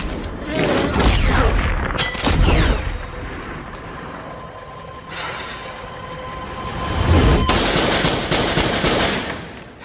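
Loud bursts of gunfire from a movie scene, rapid volleys clustered at the start and again near the end, separated by a quieter stretch of rumble and debris.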